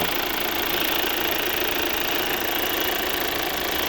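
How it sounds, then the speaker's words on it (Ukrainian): The 2.0 D3 diesel engine of a 2018 Volvo S60 Cross Country idles steadily up close, a dense, even clatter with a faint knocking texture and no change in pace. "Ось робота двигуна."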